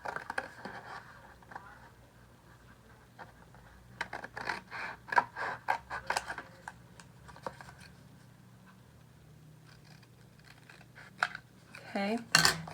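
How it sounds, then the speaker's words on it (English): Scissors snip out a paper hang tag in irregular clusters of light, close cuts and crisp scratches, with quiet pauses between the bursts. "I'm just going to cut this hang tag out."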